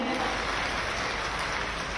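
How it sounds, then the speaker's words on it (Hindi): Steady, rain-like applause from a large gathering as a Radha Krishna idol is presented at a Krishna birth festival in Mathura, an even, continuous roar of clapping. "आप सभी की जोरदार तालियों के मध्य"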